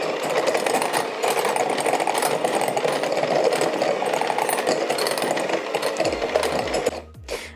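An electric mixer whirs loudly and steadily for about seven seconds, softening butter in a mixing bowl for peanut M&M cookies, then cuts off and leaves a brief low knocking; no talk.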